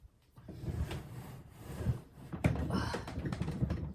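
An overfull, sticking wooden dresser drawer in a toddler's room is tugged open with repeated scraping, rattling jerks and knocks, nearby and moderately loud.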